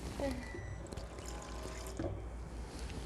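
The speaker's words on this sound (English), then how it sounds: "Let me just add more water." Water poured into a vanilla extract blend, a steady close trickle and splash of liquid running for a few seconds over a low background hum.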